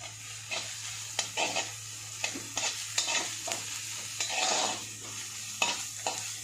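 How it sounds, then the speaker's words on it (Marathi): Onions sautéing in a pan with a steady sizzle, broken up by repeated scraping stir strokes at an irregular rhythm, close and moderately loud, with no voices. "कांद्याला थोडंसं परतू द्यायचं लाईट पिंकिश कलर आला तोपर्यंत त्याला भाजायचं"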